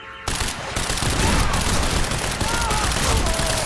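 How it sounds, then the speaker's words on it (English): Rapid gunfire and explosions from the video game Quantum Break, a loud, dense barrage of machine-gun bursts and booms that runs steadily through the clip. "So many explosions."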